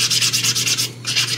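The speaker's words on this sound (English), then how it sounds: "I'm going to give it a very light sanding," Light sanding of a print line on the skin of a 1/4 scale resin figure, with rapid, even back-and-forth rasping strokes, close and loud, and a brief pause before the strokes resume.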